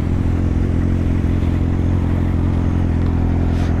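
A Yamaha XJ6 motorcycle engine runs loud and close, a thick continuous mid-range drone with a throbbing low rumble that holds steady and barely varies, with no talking over it.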